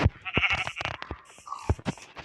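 Sheep in a blocky sandbox game bleating in short repeated bursts, close and clear with gaps between calls, no one talking.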